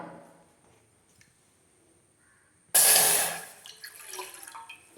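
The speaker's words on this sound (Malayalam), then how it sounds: "ആദ്യമേ തന്നെ നമുക്ക് പാല് ചായപാത്രത്തിൽ ഒഴിച്ച് തിളപ്പിച്ചെടുക്കാം" Milk poured into a tea pot, a sudden splashing gush after a quiet start that fades into smaller trickles and drips.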